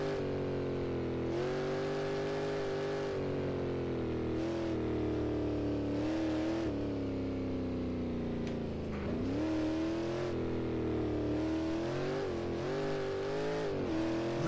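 A simulated Shelby Cobra 427 V8 in the racing game Assetto Corsa roars under power, its engine pitch rising and falling through gear changes and throttle lifts, loud and continuous while the car slides out.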